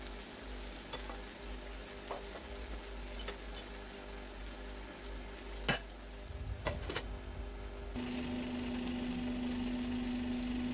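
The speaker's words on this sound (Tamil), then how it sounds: "இன்னும் கொஞ்சம் ஃப்ரை ஆகணும்" Green chicken fry sizzles quietly in a pan. Occasional scraping and clinking sounds come from stirring, and a steady hum joins in near the end.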